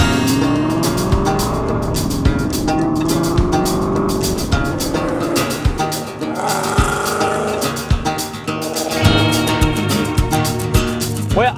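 A built V8 Ford Mustang rumbles loudly and continuously up close as it drives on the road, its engine note rising and falling with throttle and gear changes. A voice whoops now and then over it.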